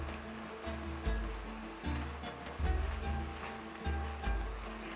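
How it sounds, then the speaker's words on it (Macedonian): Macedonian fish stew simmering gently in a pot, with a soft, steady bubbling and a low, rhythmic burbling that swells every second or so across the whole stretch. "И ќе го оставам да си крчка на тивко"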